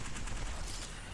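Heavy gunfire in a combat video game, a short, loud, dense burst of overlapping shots with no voices.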